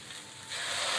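Onion and mushroom frying in a pan for hot and sour chicken soup, a soft, steady sizzle that grows noticeably louder halfway through.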